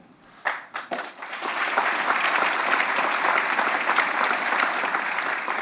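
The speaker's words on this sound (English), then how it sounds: "The crowd applauds" A few scattered claps quickly build into steady, sustained applause from a large crowd at a presidential medal ceremony, continuing evenly throughout.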